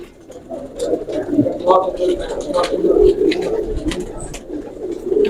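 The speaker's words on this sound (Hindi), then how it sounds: "ये ओरिजिनल बांका कबूतर है" Banka pigeons coo softly and repeatedly up close, their low burbling calls blending with a murmur of background noise.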